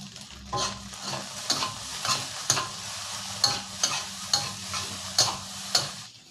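Shrimp-paste fried rice with mackerel is stir-fried in a pan, with rhythmic scraping strokes of a spatula roughly every half second over a soft, steady sizzle, close and fairly quiet, with no talking.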